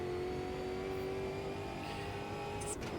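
A formula-type touring car in Automobilista 2 holds a steady, droning engine tone with a faint rising whine, joined near the end by a brief higher-pitched hiss.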